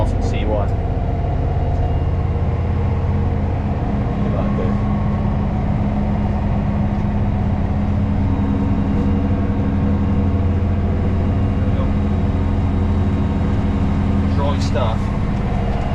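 A tractor engine runs steadily in gear as it sets off mowing a dry second-cut field, a constant mid-pitched drone close by with no talking.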